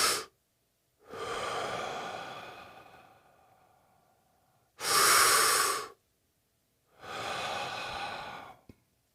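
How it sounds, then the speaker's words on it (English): Slow, deep breathing repeats close and alone: a long in-breath, a longer drawn-out exhale, a short gap, then another full in-breath and out-breath, with soft airy texture throughout. "Then work to breathe in fully, gently let it out"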